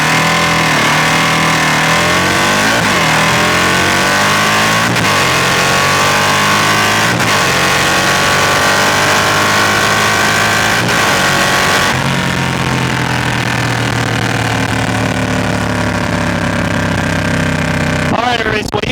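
A 153 CI Harley CVO Road Glide motorcycle accelerates hard, its loud engine climbing in pitch through several rising gear pulls before settling into a steady roar, very close and dominant.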